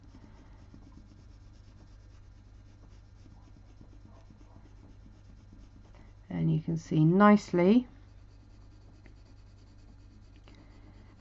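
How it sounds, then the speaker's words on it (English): A pencil shades lightly across drawing paper while sketching a cat's eye, a faint continuous soft scratching throughout, briefly joined by a person talking. "how easy my pencil glides over that indentation"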